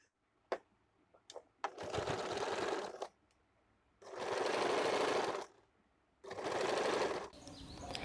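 Three bursts of sewing machine stitching join blouse pieces, each a few seconds long and close by, with short pauses and light handling clicks between the runs.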